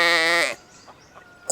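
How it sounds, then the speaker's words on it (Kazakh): A sheep gives a single loud, close bleat with a strongly harmonic, wavering voice, followed by near silence and a brief faint sound at the end. "Қой"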